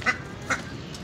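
Two or three short, nasal duck quacks, fairly close, spaced about half a second apart over faint background noise.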